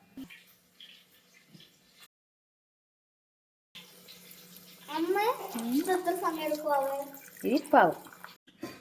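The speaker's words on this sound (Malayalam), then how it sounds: "ഇനി കുറച്ച് പുളിവെള്ളം ചേർത്ത് കൊടുക്കാം" Tamarind water is poured into a simmering curry made with elephant foot yam flower, with a soft liquid trickle at first, then a pause, then someone talks over the bubbling pot.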